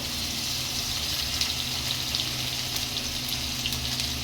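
Garlic paste and ginger paste hitting hot oil in a pan with cardamom, heard as a steady, loud, dense sizzling hiss that continues unbroken throughout, with no talking.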